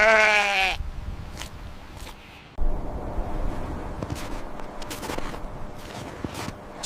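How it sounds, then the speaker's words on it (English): A large black sheep gives one loud, wavering bleat at the start, followed by a soft shuffling and footstep-like noise with faint scattered clicks. "Large black Savannah wild sheep."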